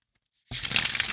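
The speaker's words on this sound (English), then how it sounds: "And I like to shuffle cards this way." A deck of oracle cards is shuffled by hand after a moment of silence, a sudden close burst of crisp riffling and flapping paper that lasts under a second.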